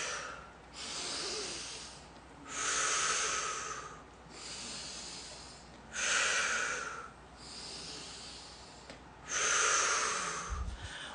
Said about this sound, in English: And I'm going to breathe in and out.